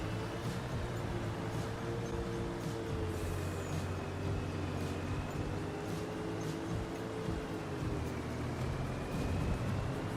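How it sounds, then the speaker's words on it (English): Truck air brakes in Farming Simulator 25, with a steady heavy vehicle engine drone running throughout and a few short sharp hissing bursts scattered over it, heard without any talk. "Air brakes in FS25 worked the exact opposite as air brakes in real life."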